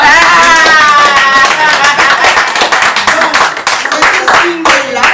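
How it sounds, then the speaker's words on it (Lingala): An audience bursts into steady applause at a press conference, a bright dense clatter of clapping under a loud announcer's voice that rings out over the start. "Applaudissez pour Gloire la Nia"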